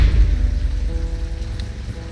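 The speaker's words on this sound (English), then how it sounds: "ooh, it's raining. Good day to stay inside a shop." Rain falls in the Strange Antiquities video game as a steady, even patter. It is fairly loud and heard alone.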